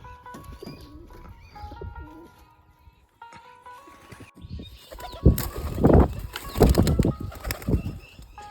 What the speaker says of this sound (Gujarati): કબૂતર બંને ખાવા માટે આવી જશે